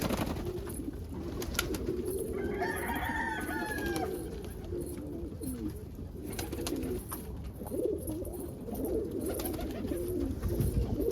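Chickens cluck and call in a busy outdoor yard, with a rooster-like crow and cooing birds mixed into steady background noise.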